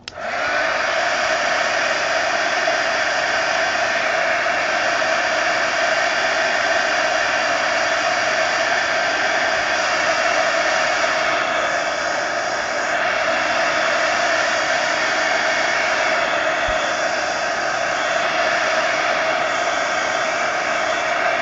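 Handheld dryer blowing on wet paint on an art journal page, a loud steady whooshing roar running close and unbroken throughout.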